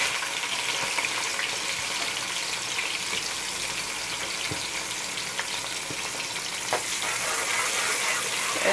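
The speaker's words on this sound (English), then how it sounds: "The oil has been heated, so what I do is I put the onions first." Onions frying in very hot oil in a pan, a loud, constant hissing sizzle with crackling pops throughout, no one talking.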